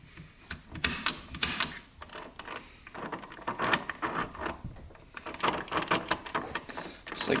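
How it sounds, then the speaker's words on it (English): A Suzuki RM125 dirt bike that won't stay in gear makes grinding and clicking from inside its gearbox as someone tries to shift it into first. The irregular metallic clacks and rattles come in bursts, close up, with no voices. "It's like grinding in there."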